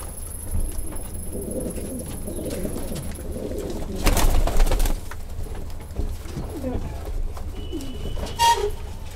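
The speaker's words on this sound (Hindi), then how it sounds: "बहुत ही प्यारे कबूतर है।" English Carrier pigeons coo in soft, repeated throaty calls close by, with a brief louder rustling burst midway and a faint background hum.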